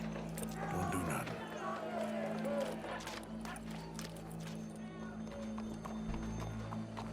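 Horse hooves clip-clop steadily in the Red Dead Redemption 2 video game on PS5, with an occasional whinny, set against a low steady hum and background game noise.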